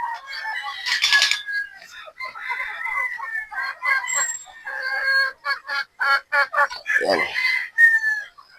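Gamefowl roosters, sweater and Boston breed stags, crow and cluck repeatedly at close range, with overlapping calls and short bursts throughout; someone talks among them.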